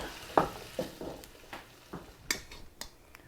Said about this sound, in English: I'm just gonna give this all a stir